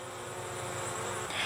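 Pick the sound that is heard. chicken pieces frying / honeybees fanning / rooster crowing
honeybees fanning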